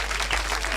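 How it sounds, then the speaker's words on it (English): A live concert audience clapping, a short dense burst of applause heard close and fairly loud for under a second. "if you're gonna clap, go ahead"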